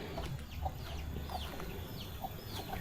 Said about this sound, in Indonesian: Tuh, banyak ayam berkeliaran di sini ya.